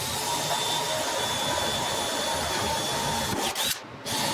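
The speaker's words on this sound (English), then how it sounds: "now I'm going to drill a hole through there" A loud, steady whine of a power drill boring through wood, continuous and close, cutting out abruptly near the end.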